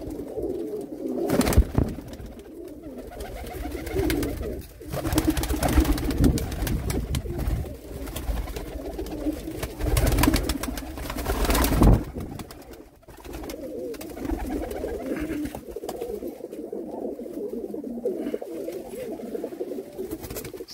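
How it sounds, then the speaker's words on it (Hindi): Many breeder pigeons coo continuously in low, rolling murmurs, a dense overlapping chorus with occasional louder bursts and rustling, no talking. "सभी के सभी बड़े ब्रेडर कबूतर"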